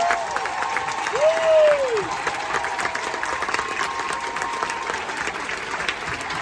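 An audience aboard a Carnival cruise ship applauds steadily, a dense sustained patter of clapping from a large crowd that swells briefly and holds throughout, with a short whistle near the start.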